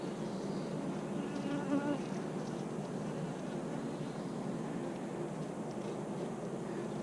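Honey bees in a long hive hum with a steady, dense buzz during an inspection, a continuous close swarm drone with no talking over it.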